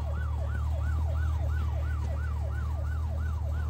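A police car siren in the video game My Summer Car wails in a steady repeating up-and-down sweep, about ten cycles in a row, over a low engine hum, with no talking.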